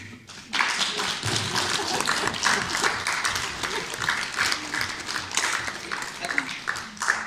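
An audience at a village Women's Day celebration in Forráskút claps, a sustained round of applause that starts abruptly and keeps going evenly, loud and dense, with some talk mixed in.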